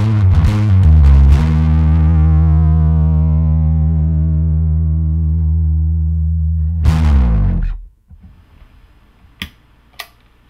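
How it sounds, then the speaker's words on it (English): A bass guitar through an Onkart Gromt Grombass distortion pedal, played with a pick, rings out heavily distorted with a few picked notes, then sustains a long fuzzy note that cuts off abruptly, leaving soft clicks. "Here is our distorted signal."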